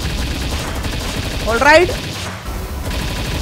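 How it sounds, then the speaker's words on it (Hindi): Rapid, continuous gunfire from a player standing in one spot and firing at a boss in the video game Palworld pounds on throughout, with a brief voice speaking over the shots midway. "मैं एक ही जगह पे खड़ा होकर लगातार गोलियां मारे जा रहा हूँ"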